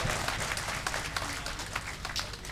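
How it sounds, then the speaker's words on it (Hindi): Audience applause at an All India mushaira and seminar in Baradaha, Madhubani, Bihar, a sustained wash of crowd clapping with slight swells and individual claps standing out, no speech over it. "भरपूर तालियों से मुझे बताइए कि आप उनको कितना चाहते हैं"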